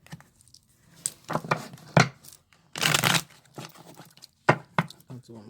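Tarot cards are shuffled by hand in a series of quick, crisp riffling bursts, the longest in the middle, close and fairly loud with no talking.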